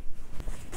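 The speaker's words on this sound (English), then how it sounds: "Zip it up." A pillow protector zipper is pulled closed in one quick run, close and crisp, with faint rustling of fabric.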